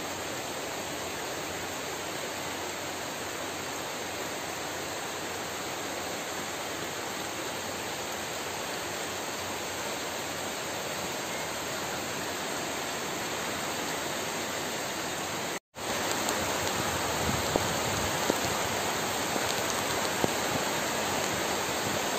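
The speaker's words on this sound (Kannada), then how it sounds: "ಮಳೆ ಜೋರು ಬರ್ತಾ ಇದೆ" Heavy rain pours steadily outside a farm shed on a plantation, a dense, unbroken roar that stays loud and close throughout, with no voices.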